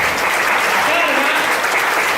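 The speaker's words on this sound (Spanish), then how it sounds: "Vamos a darle un aplauso" Dense, steady applause from a conference audience fills the whole stretch, loud and close, with faint talk mixed in under the clapping.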